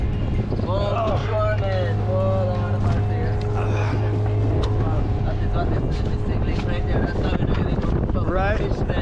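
Sailboat under sail off Belize, with strong wind buffeting the microphone and rushing water along the hull, steady and loud, while people talk over it.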